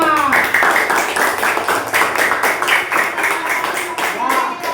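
An audience in a classroom claps after a group presentation, a burst of fairly loud, close, uneven applause lasting several seconds.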